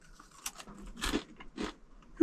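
Crunchy Queso Frito twist snacks being bitten and chewed up close, in a few brief, quiet crunching bursts spaced about half a second apart.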